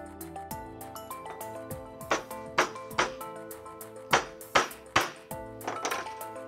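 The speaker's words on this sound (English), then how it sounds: "use a hammer to set them into" Sharp metallic hammer taps set parts into a Haskel air drive pump end cap, a series of ringing clinks that grow into several louder strikes, close and unaccompanied by talk.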